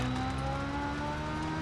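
Car engine in a racing video game, a loud, continuous high-revving drone with steady harmonic tones holding throughout, close and alone without talk.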